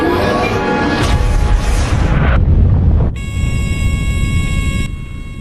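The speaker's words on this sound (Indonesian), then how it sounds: "Setelah bom pertama meledak" A loud, deep explosion roars and rumbles, followed by a sustained ringing tone over the fading low boom.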